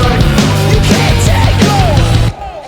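Full song mix with the vocal run through a DB33 organ emulator, so it sounds like an organ, over a steady low bass line and rhythm, loud and dense until it drops away near the end.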